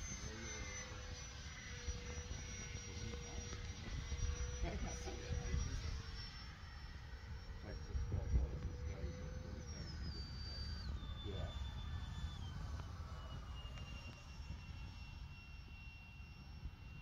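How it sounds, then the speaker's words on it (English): E-flite Habu SS electric RC jet with thrust reversing flying outdoors: a steady, loud high-pitched ducted-fan whine with pitch shifts as the throttle changes, rising and falling over constant broadband wind-like roar, with no talk. "I forgot this has thrust reversing on it."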